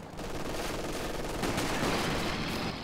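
Sustained small-arms and machine-gun fire in the World War II strategy game Company of Heroes 2, a loud dense fusillade rattling continuously for the full stretch.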